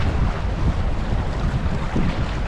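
Strong wind roaring over a fishing boat at sea off Half Moon Bay, California, a dense continuous buffeting rumble close on the microphone with no voices.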